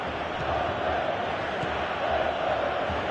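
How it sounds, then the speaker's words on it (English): A stadium crowd in the PES 2018 football video game roars and cheers steadily during a match, a dense, sustained wash of noise without distinct voices. "I think they can sense a comeback here, and so can this crowd."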